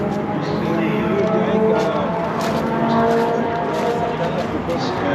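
A V6 GT Alpine sports car drives past at a classic car show, its engine a steady broad rumble mixed with crowd noise and nearby chatter throughout.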